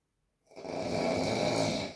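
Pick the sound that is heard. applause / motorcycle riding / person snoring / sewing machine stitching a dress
person snoring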